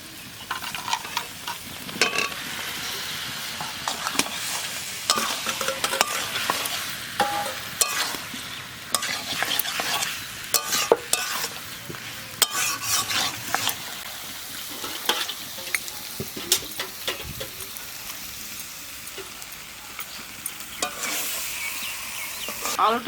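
Potato chunks stirred through a turmeric-spiced masala in a pan for dum aloo: a continuous close sizzle broken by repeated scraping and clattering strokes of the spatula, with no voices.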